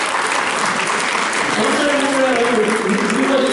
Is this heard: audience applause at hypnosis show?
yes